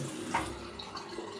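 Cold water runs from a tap in a soft, steady splashing stream with a brief louder gush near the start, quiet and close.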